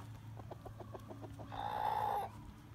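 A half Cuckoo Maran, half Ameraucana hen clucks in a quick run of soft, evenly spaced notes, then lets out a longer drawn-out squawk, close by with a low background hum.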